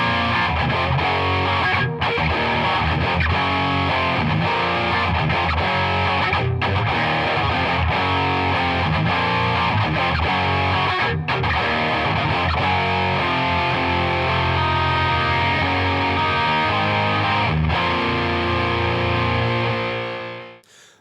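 Electric guitar played through a Boss overdrive pedal with the gain cranked, a smooth, thick distorted tone in continuous riffing and chords, loud and up close, alone until it cuts off at the end.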